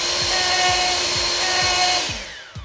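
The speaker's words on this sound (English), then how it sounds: "The first thing we're gonna need is a super strong, super powerful, super duper leaf blower." Powerful leaf blower running, a loud steady motor whine and rushing air with a rhythmic pulsing thump, then cutting off abruptly near the end.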